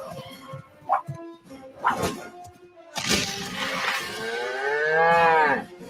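A loud, drawn-out cow moo used as a sound effect in a TaxSlayer tax-filing advert, following a few short thuds and bursts of sound.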